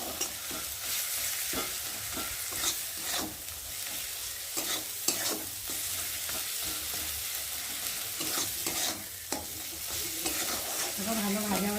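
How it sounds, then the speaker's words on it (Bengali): Spice paste sizzles and fries in hot oil as it is stirred for a while, a continuous crackling hiss with repeated scraping strokes of the spoon, close and steady without talk. "দেওয়ার জন্য একটু ভালো করে ভেজে নিতে হবে।"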